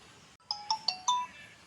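Phone ringtone playing a short rising melody of four clear electronic tones, the last one held longer, fairly close and alone with no talking.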